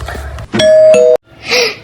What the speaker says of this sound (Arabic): ماما دق الجرس.